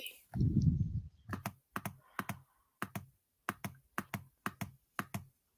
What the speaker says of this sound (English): I don't know what I'm clicking on.